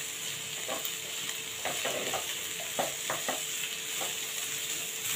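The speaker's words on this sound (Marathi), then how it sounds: "कांदा चांगला मऊ होईपर्यंत भाजून घ्यायचा आहे।" Chopped onion with garlic and ginger frying in a pan for a Maharashtrian shev bhaji, a steady close sizzle broken by the scrape and clatter of a spoon stirring every second or so.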